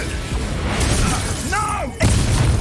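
Explosive Expulso and Bombarda spells in the Hogwarts Legacy duel, a booming blast with a shattering burst near the end, while a voice shouts spell names over the combat.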